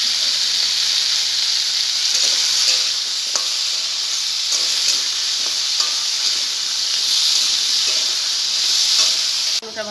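Potato pieces frying in hot oil in a pan, giving a loud, steady bright sizzle and hiss. Faint scrapes and stirring clicks run through it without a break, and no one speaks.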